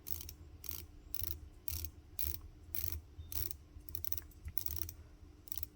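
A watch bezel on an ISL 21 Green Islander SKX013 homage clicks as it is turned, giving a close, quiet series of sharp ratcheting clicks in short bursts, alone.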